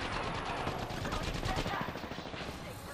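Rapid bursts of video game gunfire crackle densely and continuously, loud and close, thinning slightly toward the end, with a player's voice faintly mixed in.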